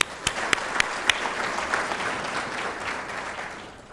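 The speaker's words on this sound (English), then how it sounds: "so let's give them a round of applause." Audience applause at a welcome plenary session of a technical leadership conference, a steady wash of clapping from a full room with a few sharp claps at the start, fading toward the end.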